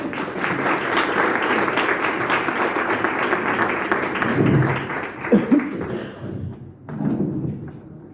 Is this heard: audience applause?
yes